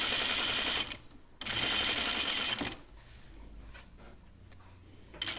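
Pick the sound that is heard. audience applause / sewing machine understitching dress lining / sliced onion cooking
sewing machine understitching dress lining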